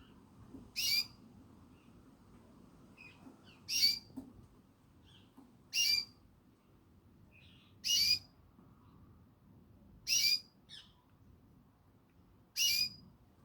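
A pet canary gives six short, bright chirps or whistled phrases, evenly spaced about every two seconds over a faint low room hum, with no voices.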